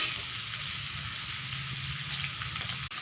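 Rock fish going into a simmering spicy fish curry with shallots in a pan, a steady bubbling sizzle close by with a low simmering undertone and a brief dip near the end.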